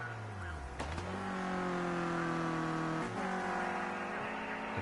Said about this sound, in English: Exhaust backfiring there.